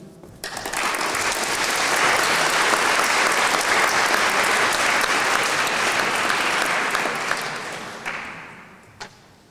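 Sustained audience applause fills an evening of staged pleadings, a dense, even wash of many hands clapping at full strength for about eight seconds before fading out, with a few stray claps at the end.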